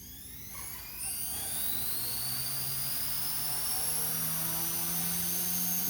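A small XK K130 RC helicopter spins up, its whining motor and rotor rising steadily in pitch from a quiet start into a loud, continuous high-pitched whir with no talking.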